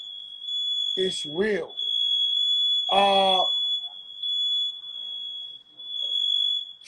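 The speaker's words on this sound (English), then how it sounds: "This is a motherfucking smoke detector." Indoor smoke detector alarm sounding a loud, continuous high-pitched tone throughout, with someone talking over it in short bursts.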